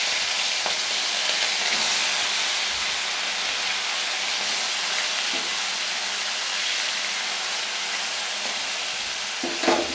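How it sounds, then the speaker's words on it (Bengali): Small fesa fish fry in hot oil in a wok, giving a steady, dense sizzle that runs unbroken throughout with no voices. "এবার আমি মাছগুলোকে ভেজে নেব"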